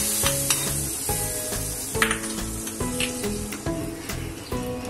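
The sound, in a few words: ghee-fried dry fruits and raisins added to milk for kheer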